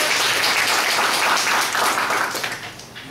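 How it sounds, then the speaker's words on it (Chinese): Audience at a student piano recital clapping, a full, warm wash of many hands that holds steady, then thins and fades away toward the end. "给予热烈的掌声"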